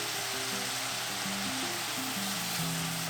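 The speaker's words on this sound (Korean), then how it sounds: "국간장 2스푼 넣고 볶아줍니다." Sliced bulgogi beef stir-frying in a pan with sesame oil and soy sauce, giving a constant close sizzle and hiss with faint stirring underneath.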